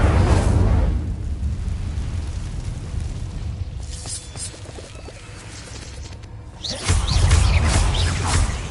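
An Incendio fire spell from Harry Potter sends out a roaring whoosh of flame that fades to a crackling middle, then surges loudly again near the end. No voices.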